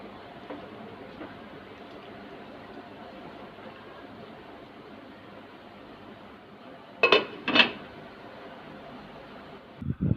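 Mango murabba being stirred in a cooking pot over very low heat: a quiet, steady background broken by two sharp metallic clinks of a utensil against the pot near the end.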